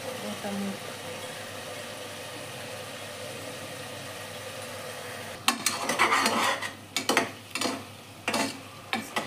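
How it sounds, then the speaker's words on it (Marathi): Chili, ginger, garlic and onion sautéing in a pan for green moong khichdi: a low steady background hum gives way partway through to close, loud scraping and stirring strokes against the pan in uneven bursts. "त्याला कांदा एकदम मऊ मऊ झाला असं तेल सुटेपर्यंत छान परतायचं."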